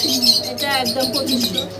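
Caged pigeons at a home pigeon farm coo in soft, throaty, rolling calls close by, mixed with light chirps while people talk nearby.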